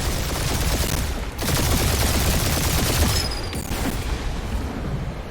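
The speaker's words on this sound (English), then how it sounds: "Destroy all these guns. They're fast!" Rapid, dense gunfire from turrets and blasters in the Guardians of the Galaxy video game on PS5, a loud continuous barrage of overlapping shots with booming impacts throughout.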